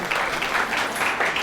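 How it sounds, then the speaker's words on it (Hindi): Crowd applause at a religious jubilee festival, a dense, even wash of clapping from many hands, loud and continuous for a short stretch. "जोरदार तालियों से स्वागत करें"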